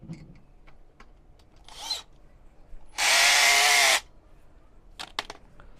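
A power tool gun drives Allen bolts into a wheeled metal step stand in one loud, steady whirr lasting about a second, with light tapping and handling sounds before and after.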